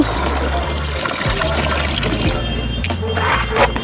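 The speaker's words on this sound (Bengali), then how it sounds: "বলতো মারিয়া সব থেকে বড় যন্ত্রণা হবে যখন এর গায়ে যখন আমি জল ঢেলবো" Water poured over a cat during a bath at home, a steady splashing, trickling wash heard up close and fairly loud throughout, with a low rumbling hum underneath.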